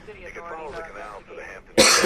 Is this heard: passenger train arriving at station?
no